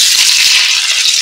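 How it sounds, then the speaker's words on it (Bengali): Meat sizzles loudly in a hot pan, a dense, steady hiss of frying that stays close and constant throughout with no voices, in a curry with yogurt and potatoes seasoned with mace and nutmeg. "মাংসটাকে একটু ভেজে নেব"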